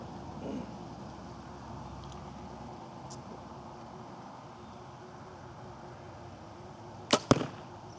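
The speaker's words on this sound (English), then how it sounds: "we're going to shoot a couple arrows here" Two sharp arrow releases from an Elite Archery Hunter compound bow fitted with a QAD drop-away rest, a quick double crack near the end, nearby and loud against quiet outdoor background.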